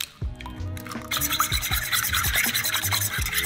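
Eggs and milk being whisked in a bowl for Hong Kong French toast, a steady scraping and rubbing of the whisk against the bowl with repeated knocks, fairly close and continuous, no talking.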